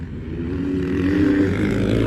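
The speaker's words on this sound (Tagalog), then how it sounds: "Kadlokas tingog sa motor ni Kon ba?" A motorcycle engine, the bike of a rider named Kon, hums low and rises in a short rev, a steady close tone swelling slightly toward the middle, with no talking.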